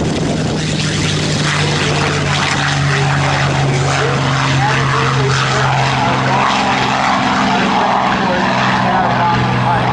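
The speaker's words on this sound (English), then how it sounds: "Airplanes taking off in the training environment" A steady, loud propeller warbird drone at an airshow fills the scene with a constant engine hum as aircraft take off, and muffled voices can be heard beneath it.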